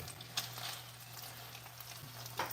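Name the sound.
snapper burgers sizzling in a frying pan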